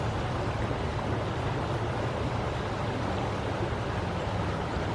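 Continuous rush of running water from a small-town park stream by falls, a steady broadband wash with no breaks and no voices.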